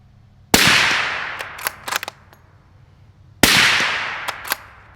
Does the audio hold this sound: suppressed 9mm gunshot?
yes